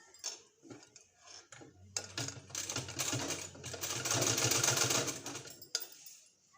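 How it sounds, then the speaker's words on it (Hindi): A sewing machine stitches along a folded strip of fabric about 1.5 inches wide, starting with a few light clicks and then running steadily in a dense, loud mechanical rattle before stopping, with no talk. "इसको हमको इस तरह से फोल्ड करके इसमें सिलाई लगा लेना है।"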